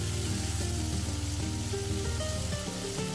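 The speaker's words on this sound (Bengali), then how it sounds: "আদা রসুনটাকে তেলের মধ্যে দুই মিনিটের মতো ভেজে নেব" Ginger and garlic paste fries in oil with a continuous close sizzle and soft spattering, running evenly throughout beneath a faint tonal background, with no voices.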